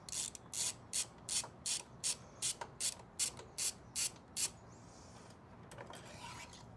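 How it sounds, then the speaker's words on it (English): A 5mm Allen key backs out the crash protection bolts on a Kove 450 rally motorcycle, giving a close, regular series of about fourteen short ratcheting clicks, then a softer scrape. "you just want a 5mm Allen key to get the crash protection off"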